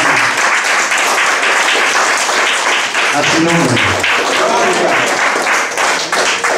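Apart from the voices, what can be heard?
church congregation applauding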